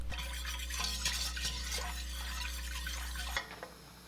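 Acorn starch powder stirred into water in a bowl for acorn jelly, a continuous close watery swishing and sloshing that stops abruptly near the end, leaving a quieter background.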